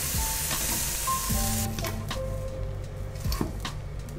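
Meat frying on a griddle for Hiroshima-style okonomiyaki gives a bright, steady sizzle, close and continuous, with a few soft clinks and scrapes of utensils, and no talking.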